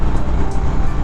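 A Harley-Davidson Sportster motorcycle rides along with a steady, loud low engine rumble and road noise throughout this short moment, no talk.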